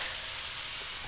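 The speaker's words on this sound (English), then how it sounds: "So as you can hear, it's starting to sizzle away." Chicken stir-fry with courgette, mushrooms, ginger, broccoli and pepper sizzling in a hot pan, a brief, steady close frying hiss.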